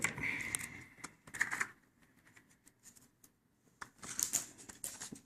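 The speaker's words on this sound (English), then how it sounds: "I'm going to tape it." Paper cups being taped together for a cardboard-style VR viewer, with crisp tape crackles and rustling in two bursts at the start and end, separated by a quieter stretch, close up.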